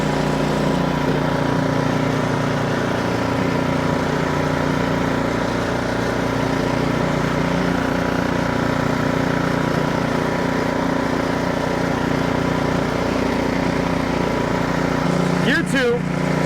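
An Ariens Professional 28-inch snowblower engine runs steadily in first gear, a loud, continuous droning hum close by with little variation, ending in a brief higher scrape or squeal.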